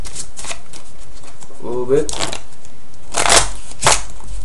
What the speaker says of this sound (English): I'll just shuffle the deck